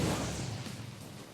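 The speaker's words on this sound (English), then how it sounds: "A large explosion, you say?" A large explosion in the Shadowrun video game, a dense, broad rumbling blast that fades gradually over about a second and a half.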